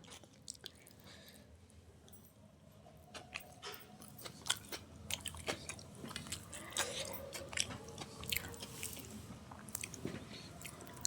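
Hand-mixed vegetable khichuri of rice and vegetables is eaten close to the microphone, with soft wet chewing and mouth sounds that grow busier and more frequent, and no speech.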